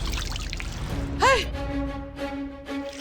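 Water pouring and flooding into a house, a steady broad rush with a brief rising whistle-like tone in the middle, loud and close throughout.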